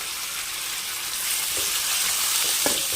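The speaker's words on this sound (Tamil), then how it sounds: "இப்போ இது கூடவே கொடியாக நறுக்கின நாலு மீடியம் சைஸ் தக்காளி ஆட் பண்ணிக்கிறேன்" Steady frying sizzle of onions with a few soft clinks and stirring sounds as chopped tomatoes are added to the hot pan.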